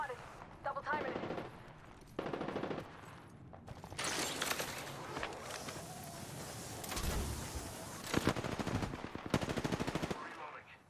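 Gunfire in the video game Apex Legends: loud, rapid machine-gun bursts come in several separate volleys with short pauses, alongside mechanical clicks and handling noises, and a voice speaks briefly.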